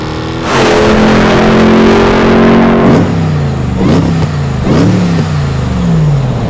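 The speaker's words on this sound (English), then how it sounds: "Let's see what the Mammoth 1000 sounds like." Supercharged engine of a RAM Mammoth 1000 truck starts and holds a loud high rev, then drops and gives three sharp throttle blips that rise and fall, close and powerful, with no talking.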